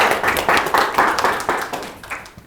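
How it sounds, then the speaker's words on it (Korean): A seminar audience applauds to welcome a speaker, a short burst of close, rhythmic clapping that fades away after about two seconds. "박수로 맞이하겠습니다."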